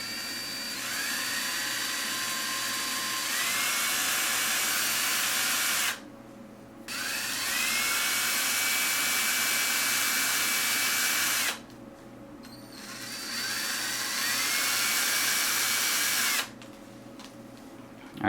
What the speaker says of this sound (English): I just need to drill a hole in 3 spots now, just around the edge here